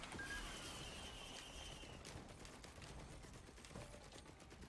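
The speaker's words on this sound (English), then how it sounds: "Oh yeah, turrets as well." Turrets firing in the video game Risk of Rain 2, a dense stream of rapid, crackling shots that runs steadily through the whole stretch amid busy game noise, with a brief whistling tone early on.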